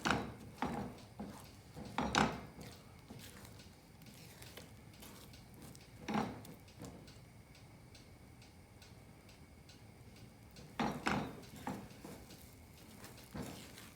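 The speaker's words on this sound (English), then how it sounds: "we've been turning the eggs almost nonstop" Spatula scraping and turning scrambled eggs in a pan: soft intermittent scrapes and taps recurring every few seconds, faint and close, over quiet kitchen background.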